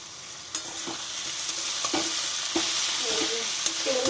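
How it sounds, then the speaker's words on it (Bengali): Ash gourd with a hilsa fish head cooks in oil in a pot over a low flame, giving a continuous soft sizzle broken by regular light taps and scrapes of a spoon stirring. "এই যে চাল কুমড়ো ফুটছে, আঁচটাও আমার একদম লো ফ্লেমে করা আছে।"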